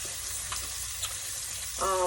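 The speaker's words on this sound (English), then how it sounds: "I got my oil on to fry my lobster tail in" Lobster tail frying in hot oil on a home stove gives a soft, steady sizzle and crackle, with a few small pops and a brief louder hiss near the end.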